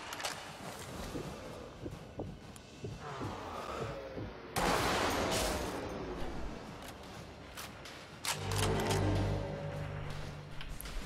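Gunfire in the video game Sniper Elite V2, a series of sharp loud cracks with echoing tails, spread unevenly among other game noises and a steady hum near the end.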